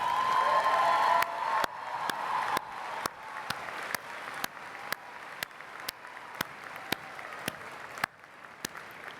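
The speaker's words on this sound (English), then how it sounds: "Faculty, would you rise once more and let us applaud you?" A graduation ceremony crowd applauds the faculty for the health and human services college; a dense roll of clapping thins after the first second into scattered, sharp individual claps that keep going across the room.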